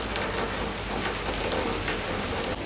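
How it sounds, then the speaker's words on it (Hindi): Heavy monsoon rain pours steadily in a hill region, a dense, loud and unbroken hiss of water lasting throughout with no pauses or voices. "बहुत ही ज़ोरदार बारिश हो रही है।"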